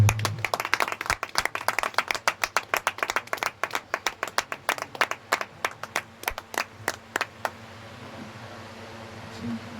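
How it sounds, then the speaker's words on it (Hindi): An audience claps together in a steady, rhythmic wave of applause to welcome Brother Stephen at a youth church meeting. The clapping is loud and sustained, then stops abruptly, leaving a faint room hum. "सो जोरदार ताली के साथ भाई स्टीफन का स्वागत करें"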